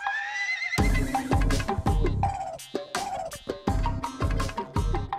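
A horse whinnies loudly and repeatedly in close, bright, quavering neighs separated by short pauses, with no talk.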